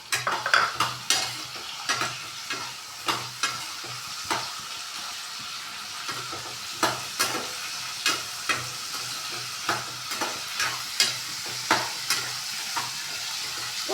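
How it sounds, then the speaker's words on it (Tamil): A cup of garlic sautéing in a pan for a poondu kulambu, with steady sizzling hiss and repeated scraping taps of a spoon stirring at a regular rhythm, close and moderately loud, no voices. "அப்புறம் பூண்டை போடுங்க. 1 கப் பூண்டு. நல்லா வதக்கி விடுங்க."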